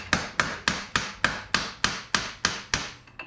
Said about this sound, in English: To hammer it this side.